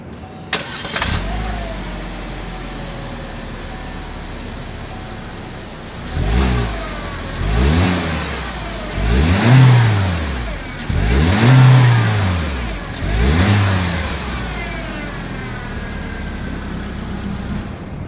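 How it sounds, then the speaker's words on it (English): A 2020 Chevrolet Spark with a single exhaust outlet starts up and idles, then revs through four rising and falling blips of a small engine, heard close at the tailpipe, before settling back to idle. "As always, here is that exhaust clip."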